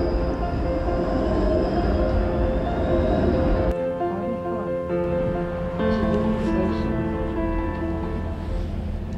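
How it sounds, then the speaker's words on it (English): A Toronto TTC streetcar at boarding, with a loud steady rumble of the car and its motors, a sudden drop in level midway as it settles, and tonal hums continuing to the end. "So I'm boarding the streetcar right now."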